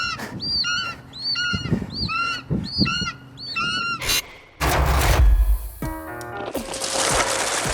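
Birds squawk and honk in quick repeated bursts, loud and close, then give way to a rush of heavy broadband noise.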